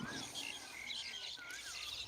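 Birds, likely mynas, chirp at a watermelon farm in the morning, giving light repeated calls over a steady outdoor hiss.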